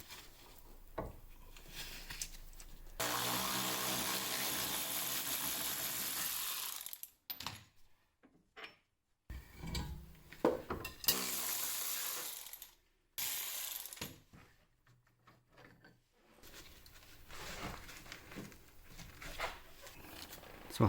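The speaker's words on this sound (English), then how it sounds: "I'm going to take off the wishbone bolts now." Ratchet wrench removing the wishbone bolts on a Honda Beat during a suspension bushing job, with bursts of rapid clicking separated by pauses and lighter metallic clicks, close and fairly quiet.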